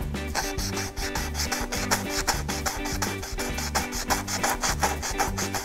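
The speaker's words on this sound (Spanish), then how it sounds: "vamos a comenzar a lijar en una sola dirección, porque si no, rayamos la pieza." Rhythmic back-and-forth rasping of sandpaper on a brass sheet, quick regular strokes in one direction, steady and close, with no voices.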